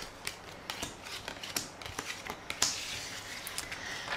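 Tarot cards being shuffled and drawn during a French daily reading, heard as a string of crisp, close paper snaps and flicks at an irregular rhythm, quiet and with no talking.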